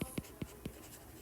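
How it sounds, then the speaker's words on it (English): Handwriting with a pen or pencil on paper: four quick, soft scratching strokes in an even rhythm, faint and close, then a brief pause. "So let me just write it."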